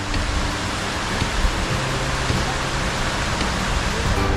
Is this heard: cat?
no